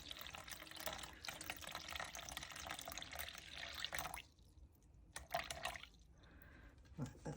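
Water is poured into a container for mixing Aqua Cast, a faint steady splashing stream that cuts off partway, followed by a few quieter trickles and drips.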